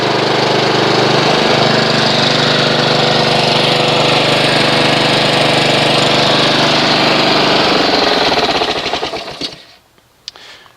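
A Honda HRX217HYA lawn mower engine runs loud and steady at close range, a continuous droning roar that holds for several seconds before cutting off and winding down.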